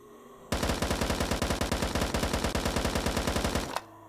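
Sustained automatic burst from an AUG rifle in the VRChat game, a rapid, even string of loud shots lasting about three seconds before cutting off.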